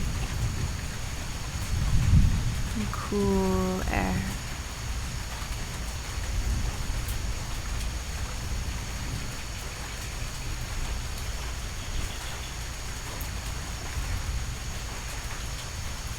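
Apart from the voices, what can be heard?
rainforest thunderstorm, rain with thunder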